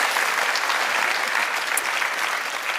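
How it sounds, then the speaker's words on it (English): A youth event audience gives steady, dense applause for a group of young curators, continuous clapping throughout with no talk. "I do want to give them a big round of applause for all their work"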